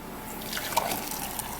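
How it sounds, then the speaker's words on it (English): Juice poured into a cup gives a short, close liquid trickle and drip, soft and steady with no talk over it. "We pour in the juice"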